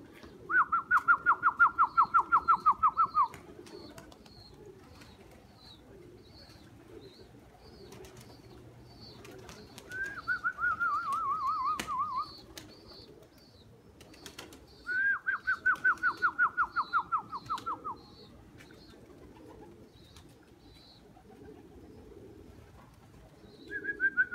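Pigeons at a dovecote coo in three drawn-out bursts spaced several seconds apart, with soft intermittent wing flaps and quieter chirps between, close by and with no talk.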